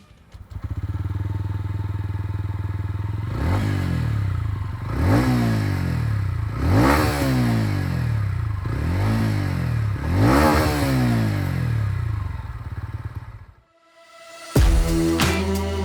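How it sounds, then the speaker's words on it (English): A TVS Ronin 225 motorcycle idles with a steady low thrum, then blips its exhaust in four rising revs that fall back each time, before the engine cuts and a few clattering knocks follow. "we want you to first listen to the exhaust note of the bike"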